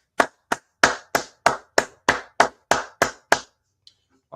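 Eleven sharp, evenly spaced claps from an audience at a Wednesday night law class ring out in unison, loud and close, then stop into near silence.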